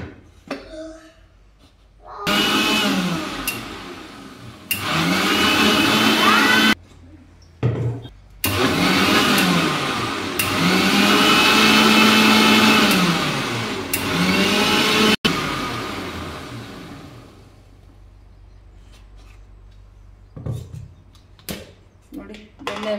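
Mixer grinder whirring in repeated bursts while churning cream into butter, loud and near with brief pauses between runs, someone talking between and over the bursts.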